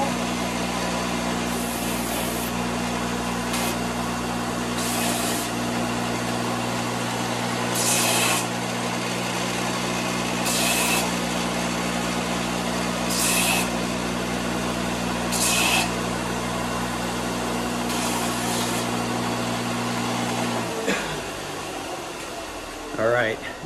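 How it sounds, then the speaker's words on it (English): A power sander works the edges of a wooden scratch box: a steady, loud motor whine runs continuously for about twenty seconds, then cuts off and winds down, with no talking over it. "Sand all my edges with a little bit of a profile."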